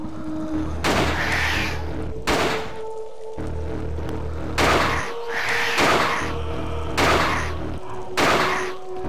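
Gunfire from the video game Alone in the Dark: The New Nightmare: five heavy, booming shots spaced roughly every one to two seconds, each a loud close blast with a short ringing decay.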